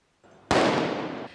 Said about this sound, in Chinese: 球迷放烟火、照光弹